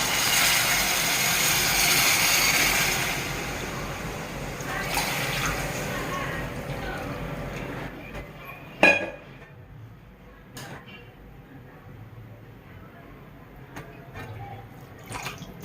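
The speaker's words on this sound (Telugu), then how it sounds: "వాటర్ వేసేద్దామండి ఇందులోనే" Water poured from a glass into a rice cooker pot for chicken biryani, a broad splashing rush at first that fades, followed by a few sharp clinks and small drips, with some talk in the background.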